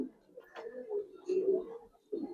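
Soft, low cooing from a Giribaz high-flying pigeon with a cumin-coloured neck: a few short throaty phrases close by, with brief pauses between them and no voices.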